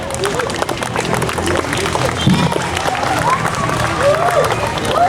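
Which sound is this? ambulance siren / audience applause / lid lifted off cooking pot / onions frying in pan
audience applause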